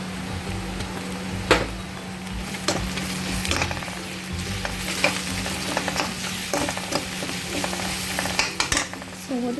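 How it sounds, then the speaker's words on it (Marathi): Green chili paste and chopped green chilies frying with browned onions in a pan, giving a continuous close sizzle with stirring scrapes and a few sharp utensil knocks. "आता मी हे हिरवी मिरचीचा पेस्ट आणि थोडंसं हिरवी मिरची 1-2 चिरून ठेवलेली आहे ते टाकते."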